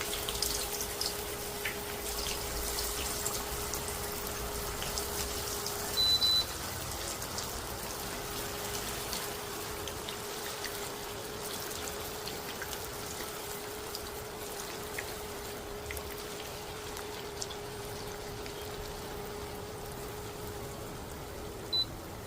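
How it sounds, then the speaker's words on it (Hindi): Vegetable Manchurian balls deep-frying in hot oil over a low flame send up a steady, even sizzling hiss that stays constant throughout, broken only by a couple of faint pops, with no voices. "सारे वेज बॉल को हमें लो फ्लेम पर फ्राई करते रहना है।"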